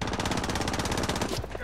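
Rapid automatic gunfire from a favourite weapon in Call of Duty: Modern Warfare multiplayer, a loud, steady burst of evenly spaced shots lasting over a second before cutting off.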